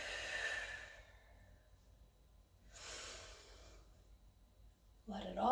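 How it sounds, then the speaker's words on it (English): Slow, deep breaths drawn in and let out during a stretching session, two soft airy exhales separated by a quiet pause, close and gentle, followed by the start of a voice at the end. "Let's take a nice few deep breaths in. And exhale, smooth."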